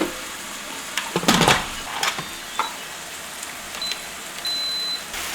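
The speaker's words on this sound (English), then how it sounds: "I've got my pressure cooker over here, so I'll get that started." A pressure cooker being started in a home kitchen gives short electronic beeps, including a longer tone near the end, over faint clatter and handling noise, with no talking.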